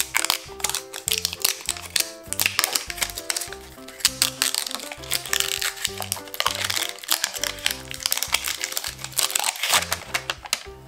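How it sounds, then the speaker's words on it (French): Gold paper is peeled and crinkled off a block of a gold treasure-hunt kit, producing dense, continuous close-up crackling and tearing with rapid irregular crunches throughout. "il faut enlever le papier doré ici pour que ça soit plus facile"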